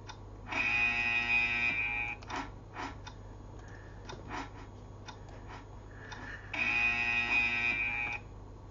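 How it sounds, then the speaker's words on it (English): A loud electronic buzzer in the Roblox Squid Game video game sounds twice, each a steady tonal blast of about one and a half seconds, separated by quieter clicks and ticking. "That buzzer is annoying."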